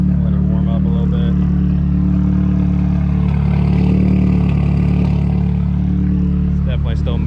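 A turbocharged KA24DE engine in a Nissan 240SX drift car idles with a misfire, a steady low rumble with an uneven pulse, close and loud, with someone speaking over it.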